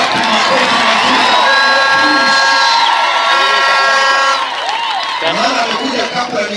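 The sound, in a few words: congregation applauding and cheering in church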